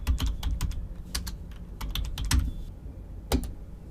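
Quick bursts of typing on a computer keyboard, close and clear, with pauses between runs of keystrokes while text is entered into a web form.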